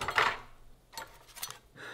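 Metal spoons clink and rattle as they are handled, a bright burst at the start followed by a few lighter knocks and scrapes, close and moderately loud with no talking.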